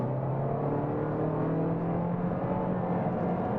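A 2021 Toyota Corolla SE with a CVT cruising on the highway, heard from inside as a steady low engine drone and road roar with a faint whine, constant and unbroken, with no talking.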